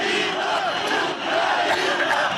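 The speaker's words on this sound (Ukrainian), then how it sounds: "Активісти намагаються будь-що перекричати одне одного." A dense crowd of rival rally activists in Simferopol shouts over each other, a loud, continuous roar of overlapping voices with no break.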